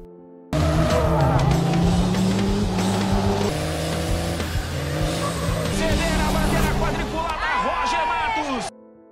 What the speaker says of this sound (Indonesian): Roger akan mendahului Deborah di tikungan terakhir, hingga ia berhasil meraih finish pertama.